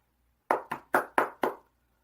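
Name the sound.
applause, hands clapping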